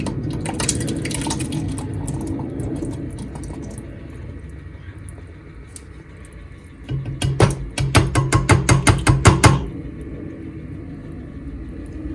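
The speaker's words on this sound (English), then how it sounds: "now I'm going to add the beans just like that" Canned beans tipped undrained into a simmering pot of carne en su jugo, a wet clattering pour followed by a quick run of loud rhythmic scraping and clunking of a utensil against the pot over a low background rumble.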